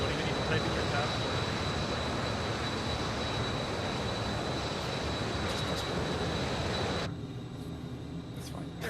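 An airplane in Microsoft Flight Simulator rolls in to land, with a steady, loud engine-and-wind roar that drops off abruptly near the end.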